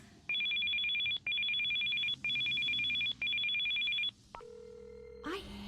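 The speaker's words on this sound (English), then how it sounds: "Man, all these phone calls." A telephone in a video game rings four times in even, evenly spaced bursts, loud and close, then falls to a quieter electronic tone and a short click at the end.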